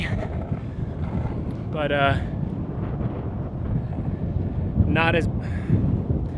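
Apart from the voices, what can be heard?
strong wind on camera microphone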